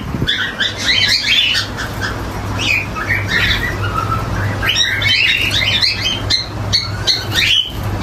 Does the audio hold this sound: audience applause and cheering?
no